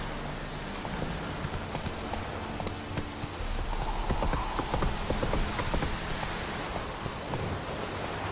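Roach the horse trots along in Witcher 3, hooves clip-clopping in a steady rhythm over a noisy outdoor bed that sounds like light rain, with no talk.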